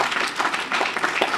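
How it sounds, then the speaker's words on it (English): Audience applause at a 2013 early learning academy graduation ceremony, steady clapping from many hands filling the room throughout the short stretch. "Let's give them some applause."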